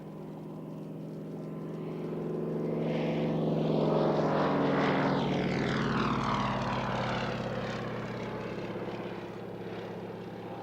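A Fairey Swordfish propeller aircraft passes at Cosford Airshow, its engine drone rising from a distance to a loud, full peak midway, then slowly fading as it moves away, with no talk over it.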